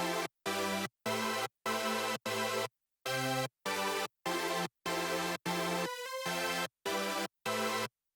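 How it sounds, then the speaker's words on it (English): Rhythmic stabs of a massive supersaw chord stack from a Sylenth preset, a bright, thick synth layer played alone in evenly spaced chopped hits with one brief sweeping fill near the end. "the massive kind of main super saw-y type layer"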